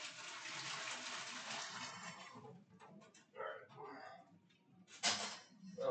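Water runs from a kitchen tap as a broad steady hiss for the first couple of seconds, then stops, followed by quieter clatter and a brief splash near the end.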